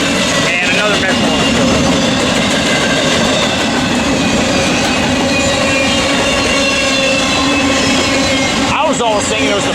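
Metro commuter train passing at a busy rail junction, a loud continuous roar of rolling cars with clickety-clack wheel noise throughout, joined by brief voices near the end.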